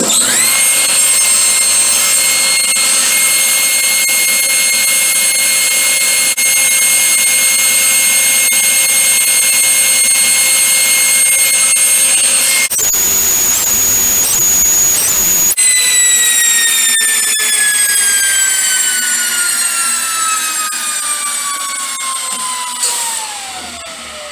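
A power saw cuts through wood while shaping a sphere from 60 pentagon faces, a loud steady whining drone that breaks off briefly midway, then resumes with its pitch gradually falling as the blade spins down.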